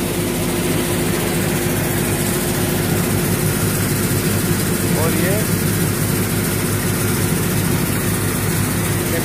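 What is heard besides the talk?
tractor engine running at methi (fenugreek) heap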